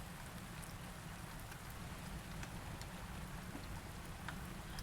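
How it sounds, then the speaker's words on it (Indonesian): Steady rain pours down in a continuous, even wash of droplets spattering on surfaces, with faint occasional low rumbles underneath and no voices. "tetesan air hujan."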